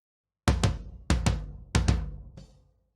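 Isolated floor tom track from an atmospheric black metal mix, gated: three pairs of deep booming hits, each pair decaying sharply before falling to silence, with a faint final stroke.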